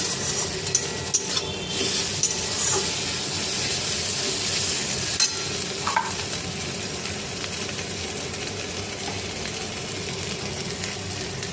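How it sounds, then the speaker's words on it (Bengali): Ginger and garlic paste fries and is stirred in a pan for a bottle-gourd-leaf cutlet dish, giving a steady, close, hissing sizzle with a few scraping clicks throughout. "আদা আর রসুনের কাঁচা ভাবটা চলে যাওয়া পর্যন্ত 1 মিনিট এটাকে নেড়ে নেব।"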